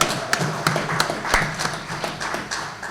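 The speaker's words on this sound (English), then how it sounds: "Give him a round of applause." Sparse audience clapping at a sickle cell awareness event, a handful of distinct claps spaced across the moment, fairly light and thin rather than a full ovation.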